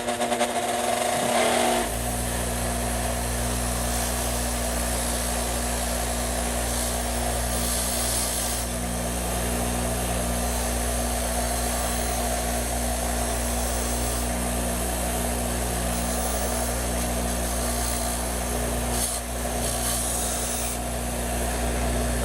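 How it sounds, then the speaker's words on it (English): A wire brush scrubs rust from the old hinges of a 60-year-old ShopMate Model 731 circular saw, a steady, continuous rasping that runs nearly unbroken, close up and alone. "These hinges are pretty rusty, so let me get some gloves and we'll try the wire brush on them."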